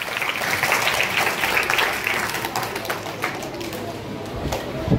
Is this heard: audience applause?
yes